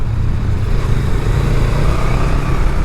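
A 2021 Honda Rebel 500 motorcycle shifts down a gear and pulls hard, its engine a steady, loud, close drone with no pause, heard alone without voices.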